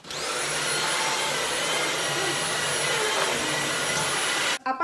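Dyson V7 cordless vacuum cleaner running close by with a loud, steady high-pitched motor whine and rushing airflow that cuts off abruptly at the end.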